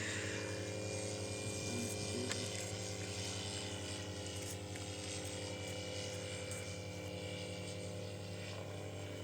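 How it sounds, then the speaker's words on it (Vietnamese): Remote-control C160 model airplane in flight, its propeller motor giving a steady, moderately quiet buzzing drone throughout, heard from a distance outdoors. "Nghe như tiếng máy bay thật."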